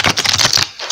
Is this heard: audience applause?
no